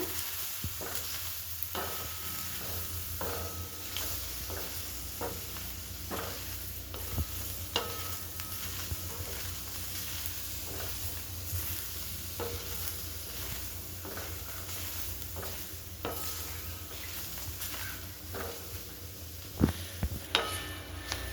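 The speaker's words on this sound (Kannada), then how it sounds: "ಹಿಂಗೆ ಕಪ್ಪಾಗೋವರೆಗೂ ಹುರ್ಕೋಬೇಕು." Hyacinth beans stir-fried in a pan for a Kannada-style palya, with a steady sizzle and repeated scraping stir strokes running throughout at close range, no voice over it.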